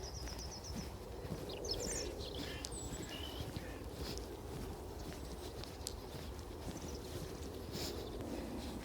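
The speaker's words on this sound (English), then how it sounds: "all you can hear is the birds, which is very nice indeed." Small birds chirp and twitter faintly along a quiet stretch of the River Welland at Deeping St James. A few short calls come early, over a low outdoor hush.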